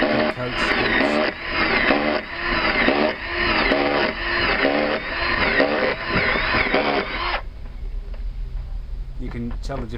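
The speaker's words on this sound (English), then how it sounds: "You hear the hollow knocking sound that's touching the hull then." A drill bores into a boat hull while a Lister Petter AC2W engine is being fitted, a loud, rhythmic whirring and chattering that churns for several seconds and then stops abruptly, leaving quiet knocks.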